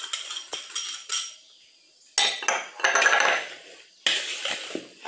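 Dry flour, chocolate powder and sugar being stirred together in a bowl with a metal utensil, heard as bursts of close scraping and clinking against the bowl with short pauses between strokes.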